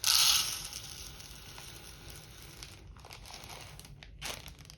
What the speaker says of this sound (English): I'm going to put in these red lentils